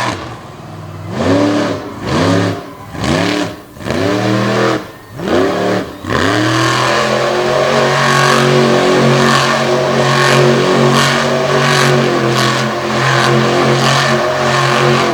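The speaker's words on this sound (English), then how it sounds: "Getting that ATI Performance Stinger unleashed into the spin cycle." An ATI Performance Stinger race car on a dirt track revs hard in repeated surging bursts, then holds a loud sustained high-rpm roar as it spins cyclones in the infield, close and with no talking.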